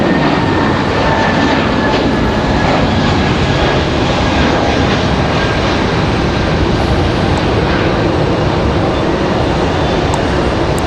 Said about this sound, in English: this one headed off to Mickey Mouse Town, headed to Orlando, Florida. This is an A320